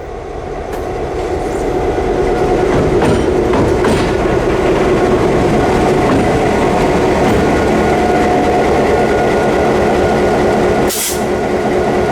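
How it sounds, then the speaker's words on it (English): A Florida Central freight train rumbles loudly close by as it approaches from within the yard, with steady rolling clatter of wheels on rails building and holding, plus a brief hiss near the end. "Florida Central train Z915 was approaching from within the yard"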